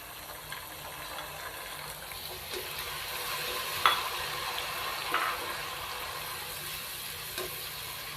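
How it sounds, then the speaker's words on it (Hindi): Onion and finely chopped tomato frying in a pan for pulao, a steady soft sizzle with occasional light stirring scrapes, fairly close and continuous, no voices. "टमाटर शामिल करने के बाद नाज़रीन हम इसको 1 से 2 मिनट भून लेंगे"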